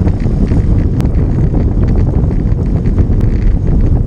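Wind buffets the microphone during an outdoor group road bike ride on a warm day, a loud, constant low rumble with occasional faint clicks and no talk.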